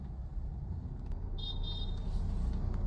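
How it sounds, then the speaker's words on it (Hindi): A motorbike horn honks behind a cab in busy road traffic, a short high-pitched toot of about a second that rises clearly over a steady, loud engine and traffic rumble. "ये बाइक वाला मुझे हॉर्न मार रहा था"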